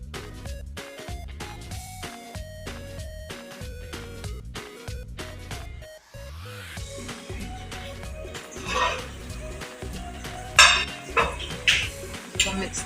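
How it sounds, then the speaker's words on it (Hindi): Rice for Hyderabadi baghare rice is mixed in a cooking pot with a spoon, giving repeated metallic clinks and scrapes in an uneven rhythm, close by, with some rustling and louder knocks toward the end. "इसको मिक्स करना है चावल को।"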